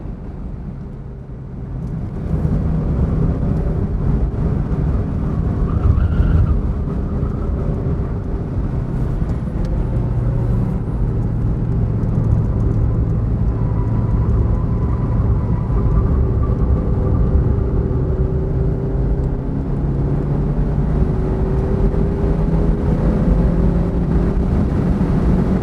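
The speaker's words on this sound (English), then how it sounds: "I'm doing a track session in a car with 90 brake horsepower." A 90-horsepower Mazda engine drones steadily and loudly from inside the cabin, a sustained low rumble with shifting pitch as it accelerates around a race track.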